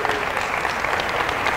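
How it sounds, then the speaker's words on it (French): An audience at a basketball coaching talk breaks into dense, continuous applause that holds at an even, loud level throughout the brief moment. "Applaudissements peut-être."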